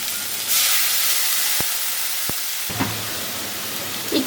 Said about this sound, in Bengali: একটু ধনে বাটা, একটু টমেটো দিয়ে মশলাটাকে কষিয়ে নেব।